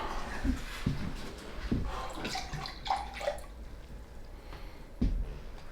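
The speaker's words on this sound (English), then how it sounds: "I'm gonna pour you a drink." A drink poured into a glass, quiet liquid splashes and a few short knocks and clinks, heard close in a calm room.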